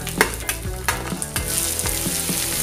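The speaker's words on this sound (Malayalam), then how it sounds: "ഒരു 1 മിനിറ്റ് നന്നായിട്ട് ഓയിലിൽ ഫ്രൈ ചെയ്യണം" Onion, fenugreek and urad dal sauté in hot oil for a ginger chutney served with green gram dosa. A constant close sizzle is broken by repeated scraping stirs, with no one talking.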